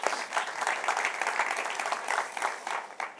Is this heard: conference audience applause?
yes